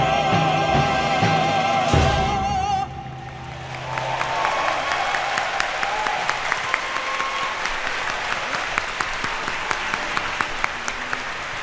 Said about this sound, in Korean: 소중한 공연 만들어주신 모든 출연진분들께 다시 한번 큰 박수를 부탁드립니다.